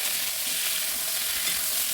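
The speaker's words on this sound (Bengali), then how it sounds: "এদিকে দিয়ে দিলাম পটলটা ভাজা হচ্ছে, তো আমি এদিকে ভালো করে নেড়ে দেবো।" Pointed gourd (potol) frying in oil in a pan while being stirred, a steady dense sizzle that runs unbroken and fairly close for the whole stretch, with no voices.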